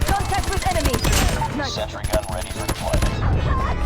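Rapid MK2 rifle fire in Call of Duty Mobile, a dense run of close shots, joined by overlapping game effects and someone speaking throughout.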